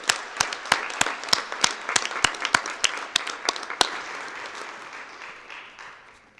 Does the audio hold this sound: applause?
yes